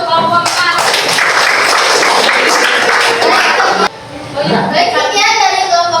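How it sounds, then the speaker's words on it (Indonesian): A classroom of students bursts into a dense round of clapping for group 4 for a few seconds, then it breaks off abruptly and scattered chatter and light taps follow. "Tepuk tangan untuk kelompok 4."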